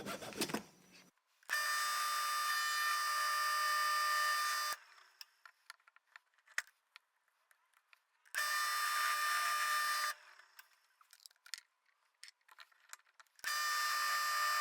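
Cutting off a water fitting with non-standard threads using a power tool, three sustained loud bursts of high whining noise separated by quieter gaps with small clicks and handling sounds.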